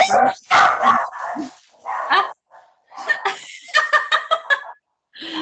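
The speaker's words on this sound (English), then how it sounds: "It sounded like she sneezed and then it turned into dog barking." A dog gives what sounds like a sneeze, then a run of sharp close barks, loud and alone, with a short rhythmic burst of barking near the end.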